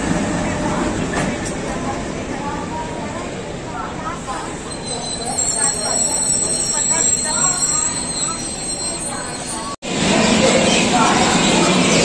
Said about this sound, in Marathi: ट्रेन अंबाला कॅन्टमध्ये अरायवल झालेली आहे